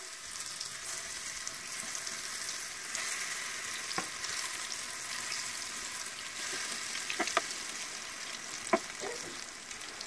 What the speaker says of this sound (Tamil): கடலெண்ணெய் ஊற்றி நல்லா சூடாகிடுது. இப்போ நம்ம வாழைக்காயை பொரித்து எடுக்கலாம்